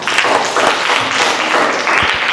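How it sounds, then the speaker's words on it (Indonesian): Classroom applause from a group of students, steady dense clapping that fills the room for a couple of seconds. "Tepuk tangan."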